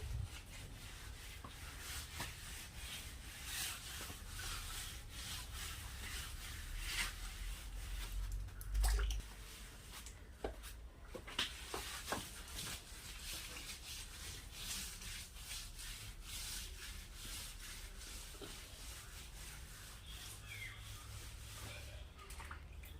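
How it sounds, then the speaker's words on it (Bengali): Floor of a mud house being plastered by hand with mud and cow dung, a steady soft rubbing and smearing that continues throughout, close and low, with faint background noise. "কাদা আর গোবর দিয়ে নাতা দিচ্ছি"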